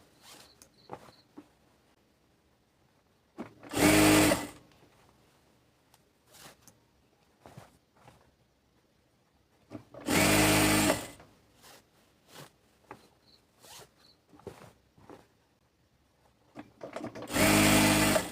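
A sewing machine stitches a women's salwar in three loud, separate runs lasting about a second each, with quieter handling clicks and fabric rustles between them.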